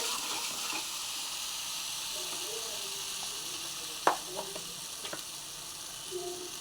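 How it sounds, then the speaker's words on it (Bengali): A spiced mixture of whole garam masala, ginger and cumin fried in a pan, a constant bright sizzle with a few light scrapes and taps from the stirring spoon, close and with no voices. "যে মিশ্রণটা রয়েছিল সেইটা দিয়ে ভালো করে নেড়ে নিচ্ছি"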